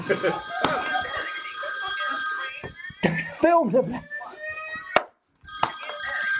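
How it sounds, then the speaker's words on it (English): A telephone rings with steady bright tones while people talk over it nearby, then the ringing cuts out briefly and resumes. "It's ringing."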